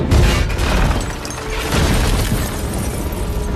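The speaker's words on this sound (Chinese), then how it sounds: "坦克瞄准时机发射炮弹" A tank fires an artillery shell during a battle against swarming creatures, heard as a dense, loud boom with a rumbling, crackling blast that sustains throughout, close and heavy with no talking.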